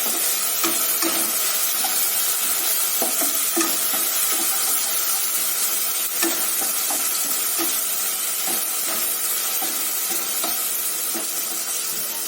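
Fresh fenugreek (methi) leaves hit a pan of onion, garlic, green chili and salt, sizzling steadily with a constant hiss. Repeated scraping stir strokes sound throughout, close and alone.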